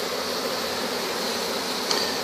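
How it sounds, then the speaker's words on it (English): Bees swarm during a bee removal, giving a steady, close, dense buzzing drone that holds without a break. "Quite a few bees."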